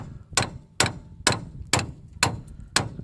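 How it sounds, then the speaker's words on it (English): A hammer taps a tie rod end on a 2010 Ford F-150 six times in a steady rhythm, each strike a sharp, ringing metal clank, close by with nothing else in between. "if you just tap these a little bit"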